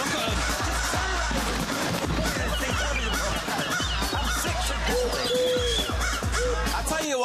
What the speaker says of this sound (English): can we get rid of these birds?